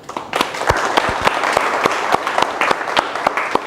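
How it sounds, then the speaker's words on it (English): An audience at a university entrepreneurship tutorial gives a round of applause, a sustained crackle of many hands clapping with distinct sharp claps close by, and no talk over it. "give all of you a big round of applause"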